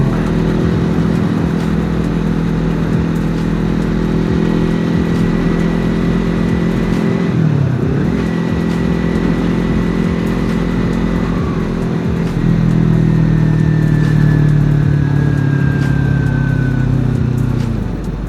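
A Kawasaki Z250 motorcycle with a racing exhaust idles and revs loudly up close with a throaty exhaust rumble, the pitch dipping once mid-way and climbing again toward the end.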